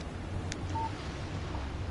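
Phone alert tone for an incoming text message in the video game Alan Wake, a short faint chirp followed by a brief steady beep, heard alone over low background hum.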